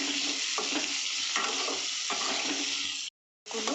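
Steady sizzling of eggs frying in a pan with salt and turmeric, with periodic stirring scrapes and a brief silent gap near the end.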